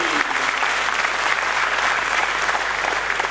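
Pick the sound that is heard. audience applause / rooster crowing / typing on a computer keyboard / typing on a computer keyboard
audience applause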